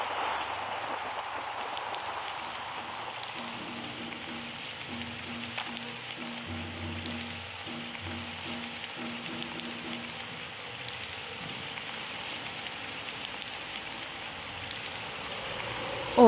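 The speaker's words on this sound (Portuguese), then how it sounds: "Está chovendo muito." Heavy rain falls steadily in the Roblox Brookhaven game, a constant hiss lasting throughout, with a faint looping tonal game sound running under it for a stretch and no speech.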